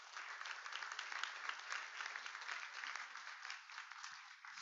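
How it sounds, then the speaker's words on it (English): An audience at a Seattle police officers' guild public safety forum breaks into sustained applause, a dense even wash of clapping heard from a distance and fairly faint throughout. "a round of applause for Mark Solomon for being here this evening"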